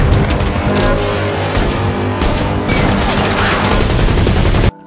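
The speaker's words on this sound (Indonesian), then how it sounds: "Drasa dengan sigap langsung membantu Levi menembak makhluk itu dari kejauhan" Movie-scene gunfire aimed at a creature from a distance, loud and dense, with rapid overlapping shots and booms that fill the scene almost without a break and then cut off abruptly.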